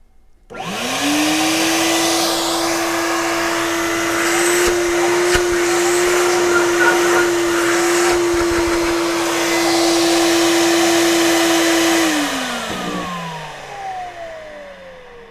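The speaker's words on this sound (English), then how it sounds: "Pretty nice vacuum." An auto-detailing vacuum with a heater whines steadily at close range for about twelve seconds, then spins down and fades out.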